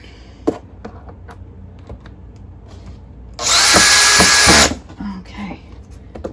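A power drill drives screws into a DIY photography backdrop for jewelry product shots, a loud close whir lasting about a second, set between quieter handling clicks and knocks.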